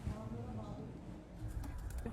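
Soft Van pigeon cooing close by, low and throaty, repeated over a busy background with some speech-like murmur.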